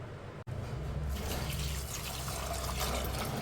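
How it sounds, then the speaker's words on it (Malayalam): Water poured into a pressure cooker for green pea and potato curry, a loud, continuous close-up gush that starts after a brief click and flows steadily for about three seconds with no talking. "ഞാനിതിലേക്ക് ഒരു ഇരുന്നൂറ്റി അമ്പത് എം എല്ലിൻ്റെ കപ്പിന് മൂന്ന് കപ്പ് വെള്ളമാണ് ഒഴിക്കുന്നത്"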